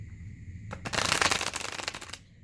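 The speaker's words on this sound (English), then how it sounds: "We're just going to do a few more shuffles" A quick riffle of tarot cards, a dense crisp flutter lasting about a second and a half, close by, with no talking.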